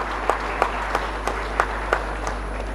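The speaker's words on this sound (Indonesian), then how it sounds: "Tepuk tangan dulu Pak Pantun ini." Sparse, evenly spaced claps sound in a hall during a Jambi provincial DPRD plenary session marking the province's anniversary, a few people clapping slowly over a constant low hum, with no talk.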